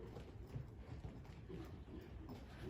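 A horse's hooves clip-clop steadily as it is driven around during a horsemanship training session, a quiet, even rhythm of footfalls with no one talking.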